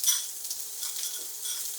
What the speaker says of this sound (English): Oh, we love to hear that sizzle.